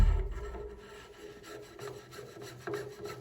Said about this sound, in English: So slide the shim on.